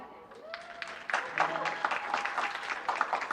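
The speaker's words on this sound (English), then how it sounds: "let's have a round of applause for the first panel" Audience applause for a conference panel at the 10th Annual NAAHP Conference, starting thin and swelling into a steady patter of many hands at moderate distance, with faint voices mixed in.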